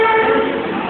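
A train hauled by a WAP 7 electric locomotive on the Padatik Express at New Jalpaiguri station gives off a loud, steady rumble with sustained horn-like tones, close and continuous.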